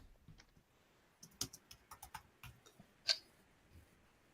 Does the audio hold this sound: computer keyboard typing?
yes